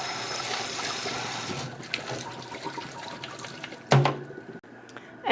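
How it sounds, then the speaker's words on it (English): Running tap water rinses freshly picked medicinal flowers at a sink, a steady splashing stream for the first seconds, then softer trickles and handling noises with a sharper splash near the end. "I'm just going to give them a rinse just to make sure there's no bugs crawling around on them."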